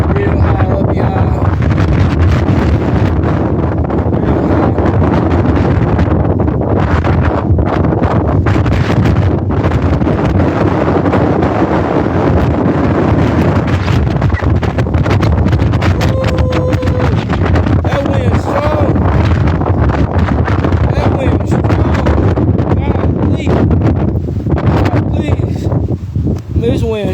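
Strong wind buffets the microphone on a high mountain summit during a hike, roaring and gusting loudly and continuously with someone talking over it.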